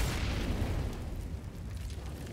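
A grenade goes off in a Counter-Strike match on the Cobblestone map as a deep, booming blast that rolls and fades over a couple of seconds, heard alone at moderate volume.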